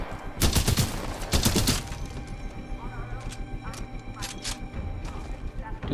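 Gunfire in Titanfall 2 comes as two loud, close bursts of rapid shots early on, then a busy background of game effects with a few sharper cracks, while a voice talks over it.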